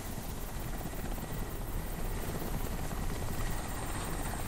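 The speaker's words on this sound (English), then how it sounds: "Fico, can you track that helicopter?" A helicopter in the shooter game Crysis Warhead roars steadily throughout, a loud, continuous rotor and engine wash with a fast chopping pulse and no talk over it.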